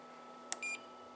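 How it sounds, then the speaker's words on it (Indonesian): A faint electronic beep from an inverter's alarm buzzer, one short chirp followed by a brief higher tone, over a low steady hum. "Ini untuk alarm buzzernya bisa on bisa off, untuk suaranya aja."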